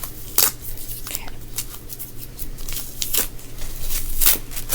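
Tape ripping off a skein of yarn in short scratchy tears, soft and close, with brief crackly pulls and no talking.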